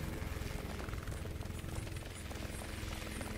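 A helicopter in the video game Chained Together thrums with a continuous, fairly loud rotor chop across the whole stretch, with no talking over it.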